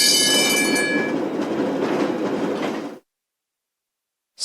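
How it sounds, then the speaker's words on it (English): A streetcar rolls along its rails with a steady rumble and high squealing tones for about three seconds, then cuts to silence before a brief burst at the very end. "Streetcar."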